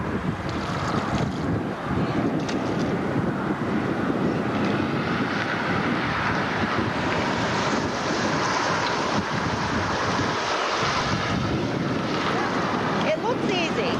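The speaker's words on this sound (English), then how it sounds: "It's better of rain, but still windy." Steady wind buffets the microphone at an Alaska shoreline, a constant loud rushing roar with surf-like wash underneath, lasting throughout, while voices talk faintly beneath it.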